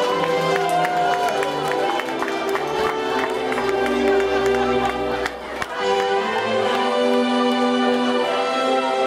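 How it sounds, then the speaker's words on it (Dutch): Audience applause and cheering at a Dutch-language carnival show, a dense steady wash of crowd noise over music lasting the full stretch, with a brief dip partway through. "Geef een applaus."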